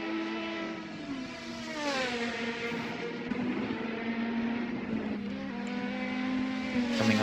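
Race car engines from a multi-class endurance racing video game at Fuji, with LMP prototypes roaring steadily as cars close in and pass, pitch shifting through gears over several seconds with no talk.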